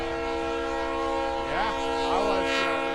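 A passing train sounds a sustained, loud multi-tone horn while wind blows across the microphone and a rumble runs underneath.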